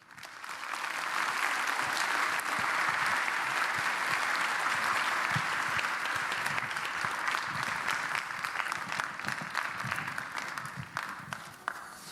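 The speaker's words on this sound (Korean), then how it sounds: "나오실 때 큰 박수로 부탁드리겠습니다." Congregation applause in a church during a Friday worship service, sustained even clapping that fills the room for about twelve seconds.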